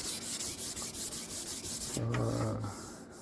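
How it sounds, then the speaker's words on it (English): Rapid back-and-forth rasping of sandpaper on a maple bass guitar body, close and loud in a quick steady rhythm, then a brief higher scraping tone at the end. "Sanding, sanding, sanding, sanding."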